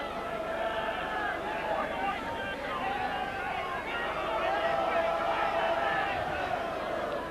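Rugby league spectators at a Hull versus Wigan John Player Trophy semi-final sing a chorus from the back of the stand, a steady distant mass of voices mixed with general crowd roar, with no break across the whole stretch.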